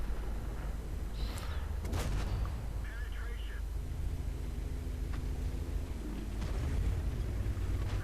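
Tank cannon in a video game firing APCR shells from a 105 mm gun on the T32, heard as booming shots near 2 seconds amid constant battle rumble, with talk running over it.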